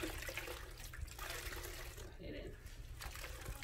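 A towel is dunked and sloshed in a wash bucket of warm soapy water, a continuous close splashing and swirling of liquid.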